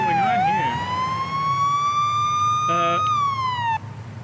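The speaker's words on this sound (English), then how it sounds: "I had a siren on" A police car siren in a police simulator game wails in a long rising and falling sweep, loud and close, with a short burst of a different tone partway through and a faint rumble beneath.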